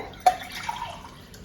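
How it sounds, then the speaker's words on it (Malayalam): Three measured glasses of water poured from a masala-grinding vessel into a pot of homemade chicken biryani, heard as a brief close splash followed by a short, soft trickle. "ഞാനിത് മസാല അരച്ച പാത്രത്തിൽ വെള്ളം 3 ഗ്ലാസ് അളന്ന് വെച്ചിരുന്നു, അതാണ് ഒഴിച്ചിരിക്കുന്നത്"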